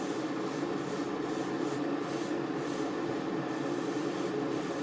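An airbrush mists paint onto the wing of a 1:144 Great Wall Hobbies HP Victor K.2 model kit, a soft, steady hiss with faint rhythmic swells from repeated passes, heard alone at low level.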